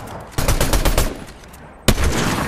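Rapid automatic gunfire from a Fortnite match rattles in a dense, loud burst, stops briefly, then resumes with a sharp crack and another sustained volley, close and with no one talking.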